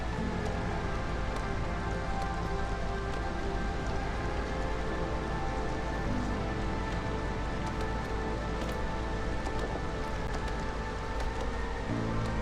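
Steady rain storm in the video game Against the Storm, a continuous dense patter of rain on surfaces with a constant hiss and soft low rumble throughout, no talking.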